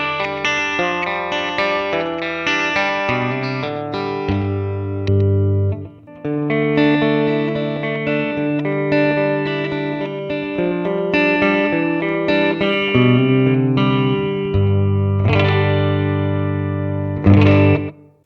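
Chambered Les Paul/Telecaster-style electric guitar played through effects, with distorted, chorused chords and melodic lines ringing out loud and steady, a brief pause near the middle, and no voices.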